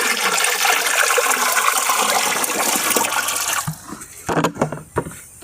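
Liquid jeevamrut organic fertilizer mixture is stirred by hand, giving a loud, continuous watery churning and sloshing for about three and a half seconds, then a few separate splashes and drips.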